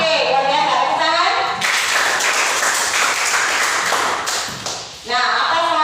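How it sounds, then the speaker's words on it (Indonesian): Classroom students clap together in a sustained burst of applause lasting several seconds, loud and close, with a teacher's voice before and after it. "Tepuk tangan."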